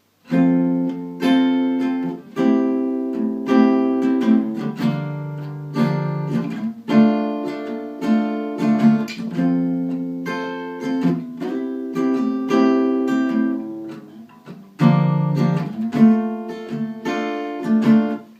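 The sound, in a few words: guitar chords played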